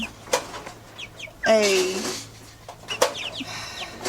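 Young chickens, including naked necks, cluck softly in short scattered calls, with a loud rustling burst in the middle like flapping wings or shuffling nearby.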